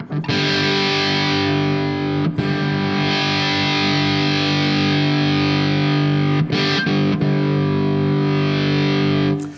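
Fuzzrocious Cat Tail distortion pedal on a steady, sustained distorted guitar tone with its filter rolling off the high end, loud and continuous with two brief breaks, no talking.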